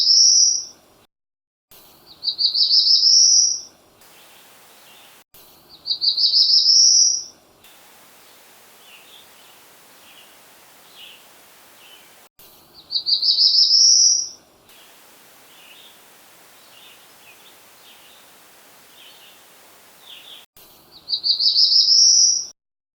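Wild birds in the Arcadia Management Area woods sing clear, high whistled phrases about every four to five seconds, close and loud, with fainter chips and calls from other birds softly filling the quiet between.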